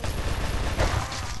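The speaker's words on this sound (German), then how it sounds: "Ich hab ihn getötet mit der Pistole" Pistol gunfire in the video game Subvein, a quick burst of sharp shots over about a second and a half, loud and close, with no voices.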